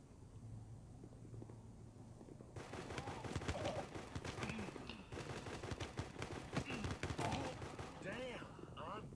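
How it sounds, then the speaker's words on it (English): Gunfire in the mobile shooter Guns of Boom: after a quiet opening, dense rapid bursts of automatic shots crackle continuously and loudly through the rest of the stretch. "He's shooting at someone."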